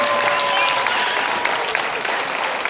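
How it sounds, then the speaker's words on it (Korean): Audience applause at the close of an outdoor indie-band charity concert in Seoul, loud dense clapping from a sizable crowd sustained throughout with no talking. "다시 한번 큰 박수 부탁드립니다."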